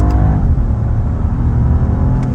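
2023 BMW 740i engine revving on a rev-matched downshift, a smooth muffled low hum with a slight rise, heard from inside the cabin, steady and fairly subdued.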